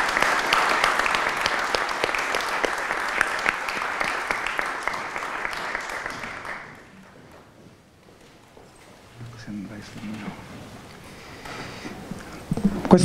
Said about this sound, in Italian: Vi chiedo per loro un grande applauso.